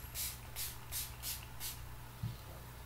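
A makeup setting mist is sprayed onto the face in five short, evenly spaced airy hisses, fairly close and soft, followed by a small bump.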